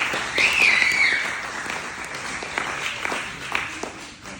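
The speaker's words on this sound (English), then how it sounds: "So everyone give them a round of applause." Wedding guests break into applause that peaks early and then slowly thins out to scattered claps, with a whoop or cheer rising above the clapping at the start.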